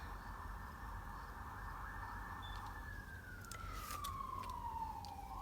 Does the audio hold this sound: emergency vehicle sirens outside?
yes